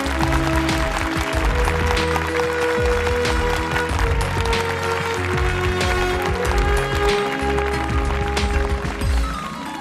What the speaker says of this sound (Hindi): जोरदार तालियों से इनका स्वागत कीजिए।